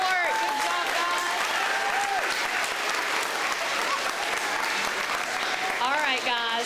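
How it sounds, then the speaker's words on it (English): Applause for the recycling court at an elementary school Arbor Day celebration, a steady burst of crowd clapping throughout, with children's voices and cheers mixed in. "one more round of applause for our recycling court"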